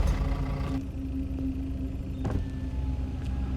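A car pulls up at a police checkpoint at night, its engine idling in a low steady rumble close by, with a power window whirring down and a couple of sharp mechanical clunks as it stops.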